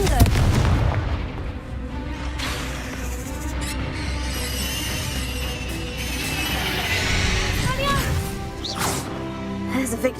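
Magical blasts from the Confringo spell boom and crash in Hogwarts Legacy gameplay, with a heavy explosive hit at the start followed by crackling debris, whooshes and impacts mixed with game music and voices.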